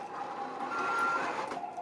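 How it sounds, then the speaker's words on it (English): Electronic reversing beeps come from an HG P602 RC Cougar 6x6 MRAP model truck, a short, close, steady tone sounding over the faint hum of its running motor. "then you will hear the beeping sound."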